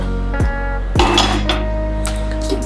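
Roasted cashew sweet (mundiri kothu) tipped from a pan onto a plate, giving two sharp metallic clinks of pan against plate followed by a softer scatter and a few light clatters, close and clear with no talk.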